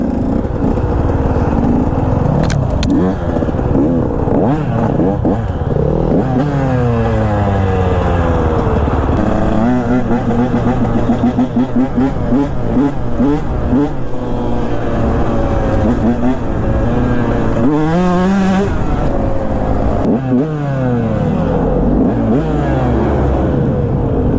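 Two-stroke enduro motorcycle, a KTM or Yamaha, revving and accelerating on a highway after woods riding, its buzzing engine rising and falling through repeated gear changes, loud and close throughout with wind noise.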